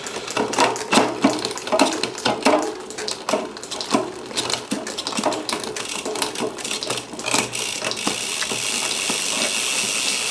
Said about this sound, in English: I'll just pump that up and down the cassette once